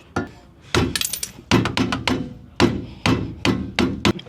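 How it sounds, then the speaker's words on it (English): A rubber mallet tapping a Ranch Armor side step into the frame tube of a Mahindra vehicle, about a dozen sharp, close thunks in irregular clusters with brief pauses between them. "take a rubber mallet or the back of your drill and pop those puppies in there."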